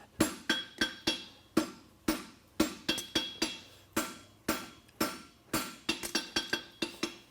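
A blacksmith's hammer strikes a horseshoe heel caulk on an anvil in sharp, ringing metallic blows, about twenty-five in quick irregular bursts, close and clear with no talk.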